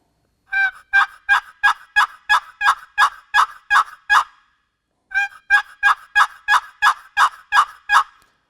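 Box call turkey yelps in two quick series of about nine to ten evenly spaced, raspy notes each, separated by a short pause, loud and close with no talking.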